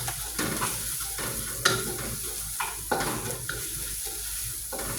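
Garlic fries in a hot wok for a stir-fried mee sua dish, with a constant close sizzle broken by repeated scraping stirs of the spatula and no talk.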